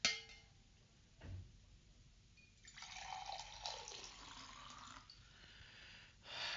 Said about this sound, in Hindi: मैं आपके लिए पानी डालता हूँ।